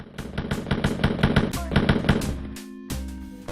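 Rapid bursts of gunfire from a first-person shooter video game where the player fights Nazis: a fast automatic rattle of sharp shots, a pause, then more heavy shots with booming tails, loud and close.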